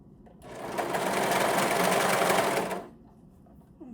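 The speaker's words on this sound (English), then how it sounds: "just keep serging all the way around, just taking off a little bit" Serger overlocker hemming a small doll T-shirt dress, one steady rapid whirring run of about two seconds, close and fairly loud, starting and stopping cleanly with quiet room tone around it.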